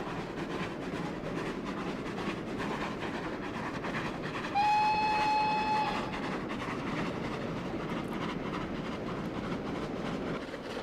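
A train running in the Trainz simulation game, its continuous rolling rumble steady throughout, with a single clear horn blast of about a second in the middle.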